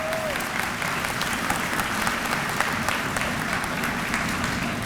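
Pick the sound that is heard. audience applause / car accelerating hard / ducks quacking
audience applause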